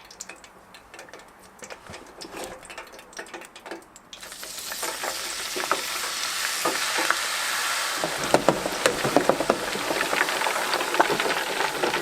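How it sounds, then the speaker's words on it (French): Fries for poutine drop into hot oil partway through, and a soft background hiss swells into a dense, loud, crackling sizzle that continues steadily to the end, with small pops scattered through it. "première cuisson des frites terminée"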